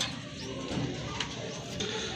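Racing pigeons coo softly and repeatedly in a loft, faint low murmurs under a steady background with a few brief higher sounds.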